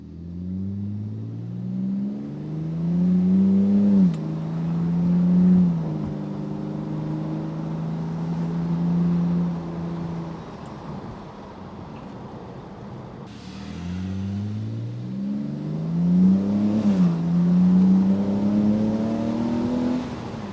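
A BMW E46 engine accelerates while driving, heard from inside the car as a steady droning hum that rises in pitch through the gears, eases off, then climbs again in a second pull.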